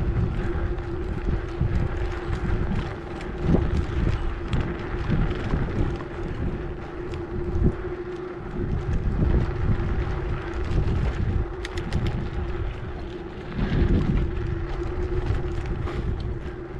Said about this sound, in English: the wind isn't too bad today, but it is coming out of the north